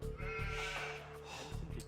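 Sheep bleating in the Age of Empires strategy game, during a Dark Age Huns build. A few bleats come one after another over a steady game backdrop with soft background sounds, up close and moderately loud.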